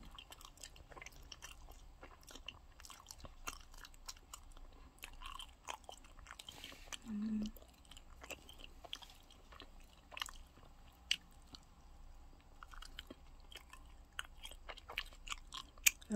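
Meat being chewed while eating, soft moist bites and crunchy mastication close to the mic, irregular and fairly quiet against a hushed background with no talking.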